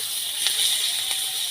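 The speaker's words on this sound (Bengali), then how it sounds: "পেঁয়াজটা একটু হালকা করে ভাজা করে নেব।" Chopped onions with nigella seeds hiss steadily as they fry in leftover rohu fish-frying oil, a soft continuous sizzle with faint stirring, no talking.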